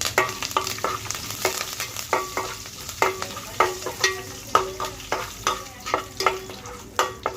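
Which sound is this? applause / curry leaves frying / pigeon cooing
curry leaves frying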